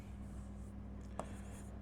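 Chalk or marker strokes on a classroom board as a physics equation is written, faint and brief with a single sharper tap amid a quiet hum and no talking.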